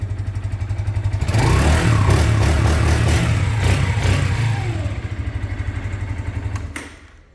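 A Falcon Mexico 150 motorcycle engine idles close by with a steady rhythmic putter, briefly revving louder before settling back and cutting off.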